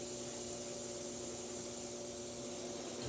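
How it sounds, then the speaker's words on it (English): An airbrush spraying a thin overall coat of paint, a steady, even hiss running without a break from start to end. "And that's why I like the spray paint"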